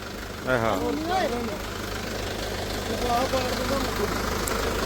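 A steady tractor engine drones throughout at an even pitch, with a brief voice-like burst near the start rising above the rumble.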